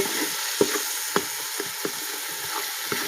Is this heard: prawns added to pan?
yes